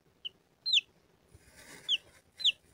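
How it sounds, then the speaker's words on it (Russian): Newly hatched chick in a cardboard-box incubator giving several short, high peeps, some doubled, over a faint low rustling background. "вылазит цыпленочек."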